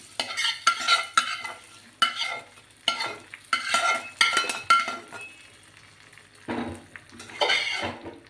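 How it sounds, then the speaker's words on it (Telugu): Hot oil crackles and sizzles as tempering is poured into lentil dal, with repeated sharp bursts, metal clinks and stirring, close and fairly loud. "ఈ పప్పులోకి ఈ పోపులు వేస్తున్నాను"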